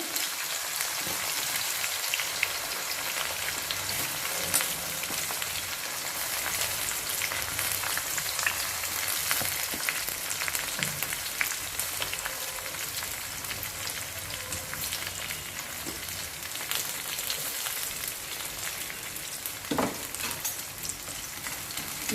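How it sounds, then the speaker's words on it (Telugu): Onions frying in a pan for mint rice give a steady, even hiss and crackle that runs the whole stretch at moderate level, with no talk over it. "ఆనియన్స్ చక్కగా ఫ్రై చేసుకోవాలి మంచిగా"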